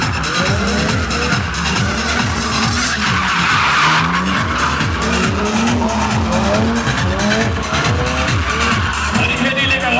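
A Nissan Skyline drifts at a car show, tires screeching in long repeated wails over a loud, steady engine roar, with a dense crowd-and-engine wash throughout.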